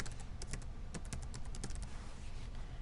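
Rapid typing on a computer keyboard, with a burst of close, crisp keystrokes in an irregular rhythm that thins out toward the end, with no voices.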